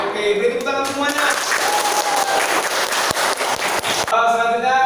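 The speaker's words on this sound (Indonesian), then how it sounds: "Oke, beri tepuk tangan semuanya." Students in an online class clapping together, a busy burst of applause of mixed hands, fairly loud, with a voice talking briefly at the start and end.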